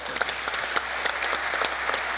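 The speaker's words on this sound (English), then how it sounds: "can we get another round of applause for Stan Grant" Audience applause after a panel speaker's oration at a lamb industry event, a steady wash of many hands clapping with scattered sharper claps, moderately loud and without talk.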